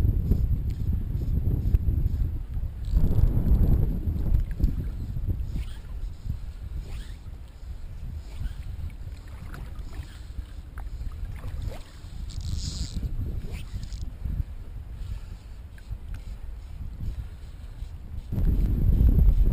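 Side wind buffeting a microphone on a saltwater shore during fly fishing for sea bass, a steady low rumble with gusty swells, strongest at the start and end.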